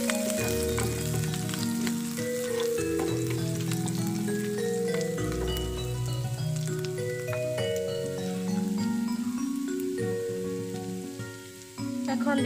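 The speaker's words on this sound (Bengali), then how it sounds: "দিয়ে দিব আদা কুচি, দিব রসুন কুচি, একটু ভেজে নিব।" Chopped ginger and garlic frying in a pan with a dense, steady crackling sizzle, while other tonal sounds run underneath throughout, and no one talks.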